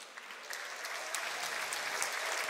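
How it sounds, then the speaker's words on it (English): An audience applauds Team Ukraine at a Hearthstone Global Games final, a steady wash of clapping that swells slightly over a couple of seconds. "give it a round of applause for Ukraine as well"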